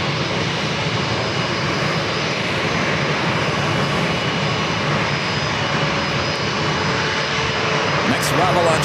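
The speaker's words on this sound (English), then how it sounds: "Alaska Airlines Flight 195 heading to Eugene, Oregon on the 737-800" Alaska Airlines Boeing 737-800 jet at San Diego airport, a loud continuous engine roar and broadband rush from the aircraft, steady throughout, with no speech heard.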